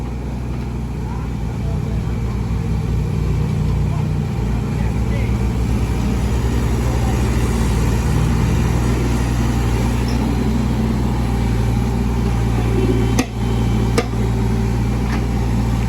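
A 3-ton Kubota KX033 excavator engine runs at light throttle while digging a drainage trench in a confined site, a steady, loud low diesel drone throughout with a couple of brief clanks near the end.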